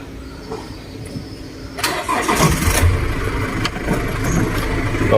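A car engine with a new battery and starter cranks briefly and then catches, settling into a loud, steady idle with no talk.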